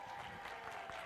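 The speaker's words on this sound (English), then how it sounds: "a round of applause, please, for our great Pastor Charles Spurgeon Pritt" Audience applause for a pastor at a church family fun night, a steady, dense wash of clapping that runs through the whole short moment without letup.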